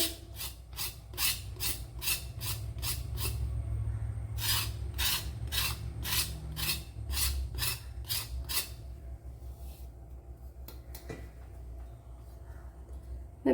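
A knife scrapes the outer skin off drumsticks in quick rhythmic strokes, a dense run of rasping scrapes that pauses briefly midway and then continues, heard close up over a steady low hum.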